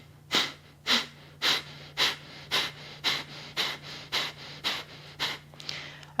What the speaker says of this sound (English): we're going to practice a pranayama technique called Kapalbhati, which is our skull shining breath